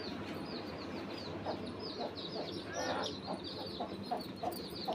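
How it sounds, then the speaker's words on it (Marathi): Newly hatched chicks cheep in rapid high repeated peeps while a hen clucks lower nearby as they are fed grain, all at moderate distance over a steady outdoor background. "ह्या छोट्या पिल्लांना दाणे हे बघा आता नवीनच पिल्लं निघालेत आमची कोंबडीनं काढलेत पिल्लं"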